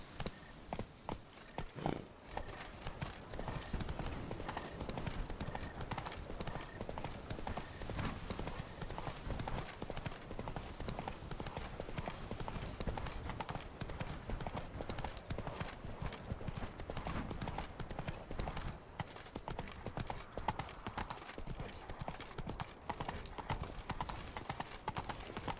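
Roach the horse's hooves clip-clop steadily in The Witcher 3, a continuous walking rhythm running for the whole stretch at a fairly even, close level, with some voice and game sound mixed in.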